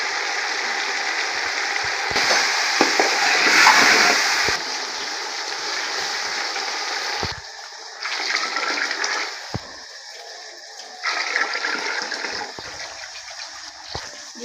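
Water poured from a mug into a pot of rice for vegetable pulao, a steady splashing pour that swells and eases in bursts, with clinks of the mug against the pot.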